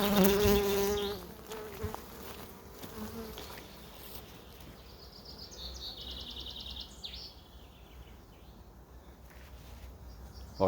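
Honeybees hum and buzz steadily around a very old, worn-out beehive, a close continuous drone with some brief birdsong mixed in.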